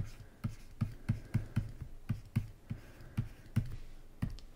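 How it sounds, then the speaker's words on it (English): Pen or marker writing on paper while noting down a trigonometry mnemonic, heard as a close run of short scratchy taps and strokes in a steady, irregular rhythm with no talking. "We're going to write down SOHCAHTOA."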